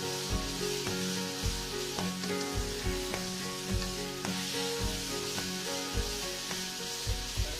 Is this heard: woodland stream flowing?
no